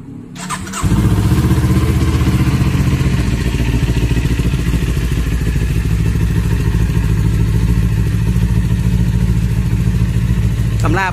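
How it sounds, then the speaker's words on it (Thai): A 2019 Kawasaki Ninja 400 ABS with its stock exhaust fires up after a brief starter whir, then settles into a loud, steady idle, close to the bike. "เดี๋ยวผมจะพาไปฟังเสียงเครื่อง Ninja 400คันนี้จะเป็นยังไงบ้างไปฟังกัน"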